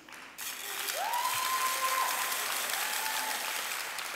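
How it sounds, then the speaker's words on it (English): An audience at an advocacy address breaks into applause, swelling quickly after a quiet start and holding steady, with a faint tone running beneath the clapping. "We can clap for Jackie for like a dozen reasons, 100 reasons"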